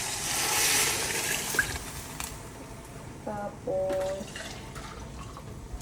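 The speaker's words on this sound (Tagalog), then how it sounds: "Ngayon, lagyan natin ng tubig." Water is poured into a pan of sautéed sardines, giving soft splashing and trickling, fairly quiet, with brief liquid sounds and someone talking briefly over it.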